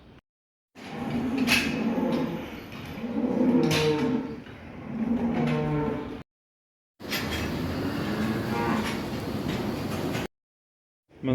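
Dairy cows on a farm moo in several long, loud, drawn-out calls, close and overlapping, broken by short silent gaps, with no people talking.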